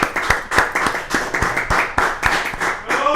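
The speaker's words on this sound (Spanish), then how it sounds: "doble el aplauso" An audience claps steadily at a talk by Solano Benítez, with a dense, close wash of hand claps and individual sharp claps standing out.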